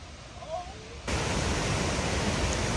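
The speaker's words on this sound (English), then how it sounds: "And here we are to Cane Creek Falls." Heavy roaring water of Cane Creek Falls at a state park after three days of rain, a dense steady rush that jumps suddenly louder about a second in and then holds constant, with no voices.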